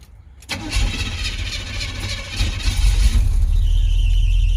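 A car engine with open headers cranks briefly after near silence, catches, and settles into a loud, steady low idle.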